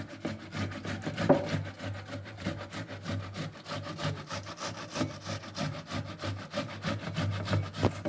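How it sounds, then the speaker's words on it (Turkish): Steady rhythmic rasping strokes of tomatoes being grated on a grater for pasta sauce, repeating quickly and evenly, close up with no talking. "Evet rendeliyoruz domatesimizi"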